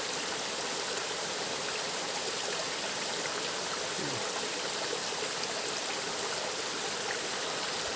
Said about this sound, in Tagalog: Narinig nyo yung mga lagaslas ng tubig